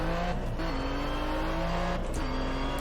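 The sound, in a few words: Chevrolet Corvette C7 Stingray engine in video game Test Drive Unlimited 2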